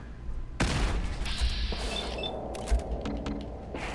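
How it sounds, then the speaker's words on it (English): Grenade blasts in the video game Fallout 4, a sudden loud boom followed by rumbling, crackling debris and a second heavy thump later, with no speech. "You chucking grenades?"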